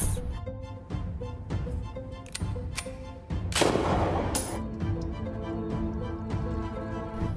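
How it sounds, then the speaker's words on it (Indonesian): A single sharp gunshot in a film scene, a loud broadband crack near the middle that rings out over a continuous music-like background, with no talk. "Secara tiba-tiba saja dari belakang, ia ditembak hingga tewas."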